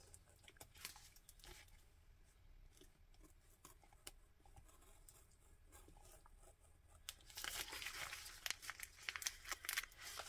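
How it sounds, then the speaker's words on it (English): Scissors cutting a wreath shape out of washi paper, with steady soft snips and crinkling that grow louder and busier toward the end, heard alone at close range. "I'm going to cut this wreath out."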